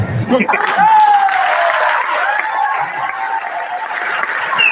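Audience at a live event cheering and clapping, a dense wash of applause and shouts that holds steady and loud, with a whistle rising over the crowd.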